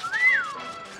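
Wall-E the robot whistles in Disney Dreamlight Valley, a single bright rising-and-falling electronic chirp that stands clear and close over faint background game ambience.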